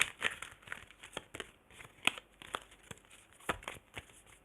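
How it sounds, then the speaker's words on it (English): A deck of cards is shuffled up close, a run of crisp papery riffles and flicks in irregular bursts with sharper snaps scattered throughout, no voices over it. "I'm just shuffling some cards."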